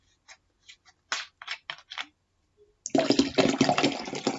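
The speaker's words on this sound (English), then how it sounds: "Now you get to hear me pouring water." Water pours steadily and fairly loudly into a drinking vessel at home, after a few scattered soft clicks and rustles.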